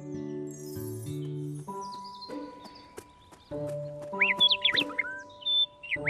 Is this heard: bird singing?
yes